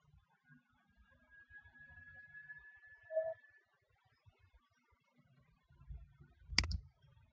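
A computer mouse gives a single sharp click near the end of an otherwise quiet stretch, close and distinct, with faint low background noise and no speech.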